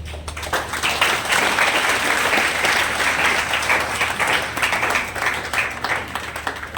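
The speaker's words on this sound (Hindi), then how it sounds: "जोरदार तालियों से स्वागत करते हैं" Sustained applause from an audience welcoming the chief guest at a free coaching centre event, loud and steady throughout with no speech over it.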